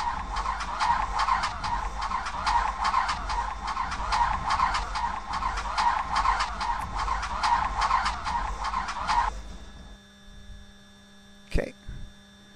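An aircraft engine in a flight simulator game cranks on its starter, a rapid, loud, even chatter that runs for about nine seconds and then cuts off, followed by a brief click and thump.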